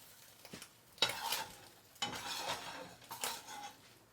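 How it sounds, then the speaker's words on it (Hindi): An egg frying in a pan for a croque madame sandwich, soft bursts of sizzling in three separate waves, quiet and close with no speech. "इस तरह से एग फ्राई कर लें और इसके ऊपर आप रख दें"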